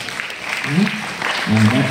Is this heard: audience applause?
yes